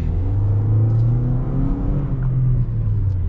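Toyota Corolla Cross XLE AWD (2022) accelerating in eco mode on an empty lane, a steady low engine drone and road rumble that rises gently in pitch, heard from inside the cabin with no talking.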